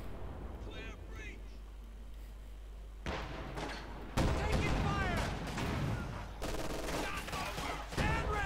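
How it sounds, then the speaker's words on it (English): Pack howitzer and other artillery firing in the Company of Heroes 2 strategy game, booming blasts and rumbling battle noise with chirping effects, under steady game commentary. "Pack howitzer firing."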